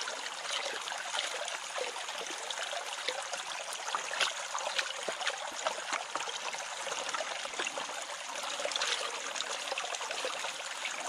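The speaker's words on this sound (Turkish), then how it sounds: "Şöyle biraz daha su alalım." Water is scooped and poured while panning for gold in a stream, a continuous close rush and trickle with small splashes that swell slightly near the end.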